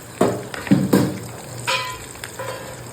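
Pepper and cumin sizzle in hot ghee while pongal cooks, with a steady crackling fry and a few louder stirring bursts close by.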